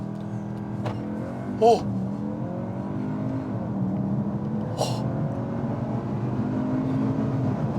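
A 2022 Cupra Formentor all-wheel-drive SUV launches hard from inside the cabin, its engine note rising steadily under a sustained loud roar with a brief exclamation from an occupant.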